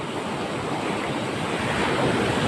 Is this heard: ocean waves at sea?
yes